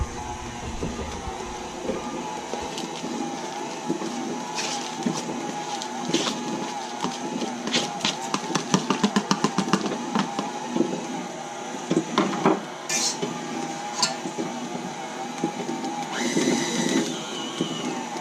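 An electric mixer churns a chicken, bacon and chopped green onion enchilada filling, its motor whirring steadily up close, with bursts of rapid clattering and a few sharp knocks.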